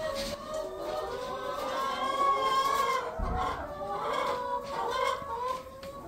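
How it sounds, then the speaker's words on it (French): Laying hens cluck and chatter inside a henhouse of about 200 birds, a dense overlapping chorus of close calls that runs throughout, with one brief spoken phrase barely surfacing. "on peut accueillir à peu près 200 poules pondeuses"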